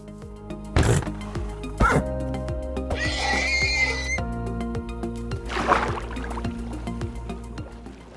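Minecraft horse neighs and whinnies with short sharp sounds, a rustling burst and steady soft background tones.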